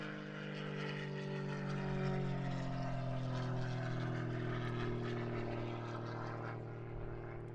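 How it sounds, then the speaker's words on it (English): A Cap 232 aerobatic plane's engine drones steadily during takeoff from a hard runway at an aerobatics championship, a sustained propeller hum heard from a distance without any talk. "So, our next competitor, taking off from the hard runway, is David Thompson in his Cap 232."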